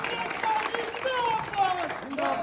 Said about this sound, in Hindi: उनका अभिनंदन होना चाहिए तालियों के माध्यम से